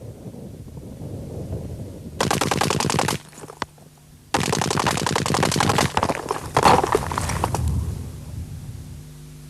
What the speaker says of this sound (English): Concentrated bursts soon demolished the wall.